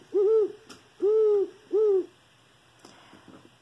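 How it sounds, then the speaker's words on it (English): An owl gives three deep, evenly spaced hoots, clear and fairly close against a quiet background, followed by faint rustling. "A stair or a parliament of owls."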